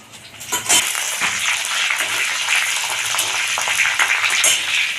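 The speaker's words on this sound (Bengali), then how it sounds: "তেল গরম হয়ে গেছে, তেলের মধ্যে দিব তেজপাতা" Bay leaf, whole dried chillies and cumin seeds drop into hot oil with a sharp spatter, then a loud, continuous sizzling hiss with scattered pops and crackles.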